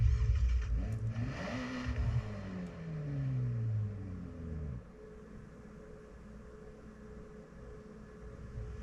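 A car engine in the racing video game Forza Horizon revs up through several rising gear sweeps, then settles back to a quieter steady hum.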